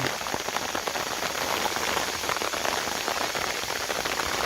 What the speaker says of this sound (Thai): ตอนนี้ก็ฝนตกนะครับ